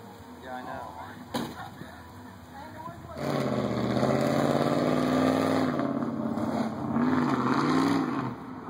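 A nearby Dodge 4x4 pickup truck engine idles, then revs up into a loud sustained roar with wavering pitch, while voices talk over it.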